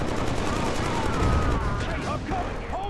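Rapid bursts of automatic gunfire from a first-person shooter game, Killzone 3, dense and continuous with a voice talking over the shooting.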